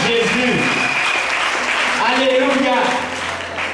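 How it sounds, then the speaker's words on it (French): A church congregation at a worship service claps and cheers in a dense, sustained burst of applause that fills the room, with voices calling out over it before it eases slightly toward the end. "Acclame Jésus. Acclame Jésus. Alléluia"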